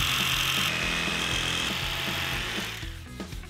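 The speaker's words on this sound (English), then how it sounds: "we'll simply cut that out with a jigsaw" A jigsaw cuts the curved ends of a timber shelf, a continuous loud buzzing rasp that holds steady and then fades out in the last second.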